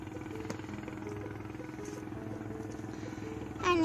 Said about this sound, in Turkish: Sese bakın. Motor sesi geliyor.